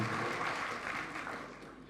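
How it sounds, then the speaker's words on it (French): Crowd applauding for the group Magic System at an event tied to the FEMUA festival, a dense, steady wash of clapping that eases slightly toward the end, heard from a distance. "Est-ce qu'on peut applaudir pour ces"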